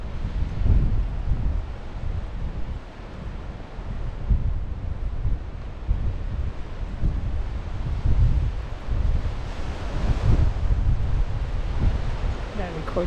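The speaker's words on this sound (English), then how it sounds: "You hear the wind?" Wind gusts across Bard Lake on a nature hike in Thousand Oaks, California, a steady outdoor rush with buffeting on the microphone that swells and fades over the whole stretch.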